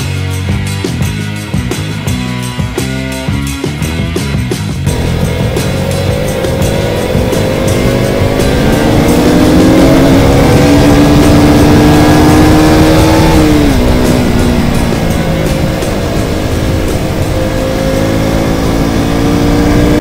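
A KTM RC 200 and a Duke 200 ride together on the road from Baguio, single-cylinder engines loud and close, revving and climbing through the gears with a steady pulsing drone and wind rush.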